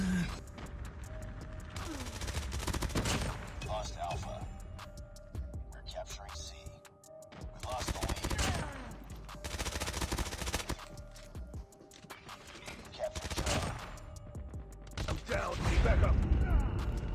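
Rapid automatic gunfire from the QQ9 submachine gun in the mobile shooter Call of Duty Mobile comes in repeated bursts of sharp shots, with pauses and quieter in-game sounds in between.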